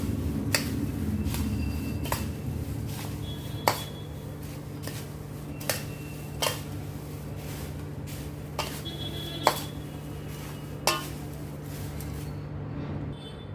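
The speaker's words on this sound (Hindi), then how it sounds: "शक्कर को भी मैं अच्छी तरह से इसमें मिक्स करती हूँ।" Powdered sugar is stirred into poha chivda with a spoon that clinks against the pan in sharp, irregular taps about once a second, over a steady low hum, close and without speech.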